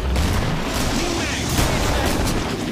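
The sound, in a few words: grenade explosions in the video game Killing Floor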